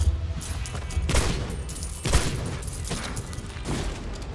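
Gunfire from a video game, a dense fusillade of rapid shots and bursts rolling continuously with a few heavier booming hits, loud and close with no talking.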